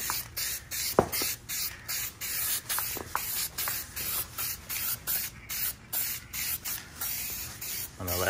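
Spray paint hisses onto a Lexus LS430 grill in a light first coat, with short repeated bursts separated by brief pauses and a faint click at the start of each pass.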